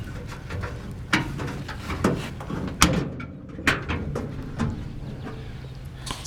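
Opening the hood of a 1956 Buick Special brings a series of scattered metallic clunks, knocks and latch clicks, moderately close over a quiet background.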